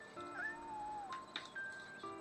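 A kitten in the video game Shenmue gives a few thin, high meows in quick succession, faint and close, alone with no talk over them.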